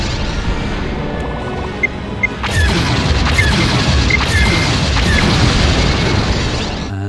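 A missile strikes the player's ship in the TIE Fighter space-combat game with a sudden crash at about two and a half seconds. A dense roar of engine and laser sounds follows, over a steady backdrop of game noise.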